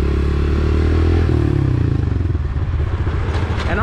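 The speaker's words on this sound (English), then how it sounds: "So I'm gonna pull that clutch in and let it out like this." A dirt bike engine runs loud and close as the clutch is let out, its steady throb turning into a rough, sputtering chug with some rattling clatter as the bike starts moving.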